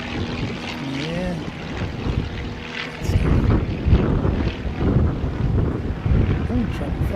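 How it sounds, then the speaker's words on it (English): An Italian C-130 turboprop military transport aircraft takes off, its steady broadband engine and propeller roar swelling louder partway through and holding amid wind noise, with a voice briefly audible early on. "Italian C-130 taking off"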